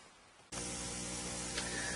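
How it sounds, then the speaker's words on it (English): After a quiet half second, a soldering iron's vacuum smoke remover switches on with a steady loud hiss of air and continues, like a small fan or vacuum blowing constantly. "The sound you hear is my soldering iron with its vacuum smoke remover"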